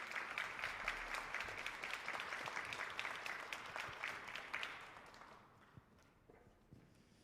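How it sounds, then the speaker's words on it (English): Applause from an audience at a college student innovation pitch event, a dense steady clatter of many hands that fades away over the last couple of seconds. "let's give a huge round of applause"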